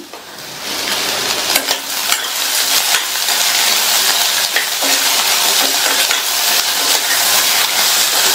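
Ivy gourd sautés in a hot pan with a steady sizzle while a metal spoon stirs and scrapes against the pan, its clinks standing out clearly, with no talking.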